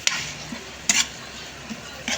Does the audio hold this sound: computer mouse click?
no